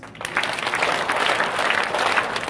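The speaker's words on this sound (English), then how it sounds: "May I ask you to clap your hands 5 times, please?" Audience clapping at a college entrepreneurship summit, a dense burst of many hands from a crowd that starts abruptly and keeps going as a fairly loud, sustained wash of applause.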